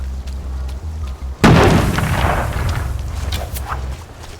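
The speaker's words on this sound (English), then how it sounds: "They're bombing us again!" A wartime bombing raid in We Happy Few: after a low steady hum, one sudden close, loud explosion hits, followed by several seconds of rumbling debris and crackle.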